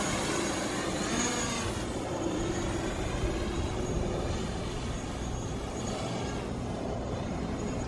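A DJI Mavic Pro drone lifting off and flying outdoors, a steady, loud, broadband whirring buzz of propellers holding throughout with slight shifts in pitch.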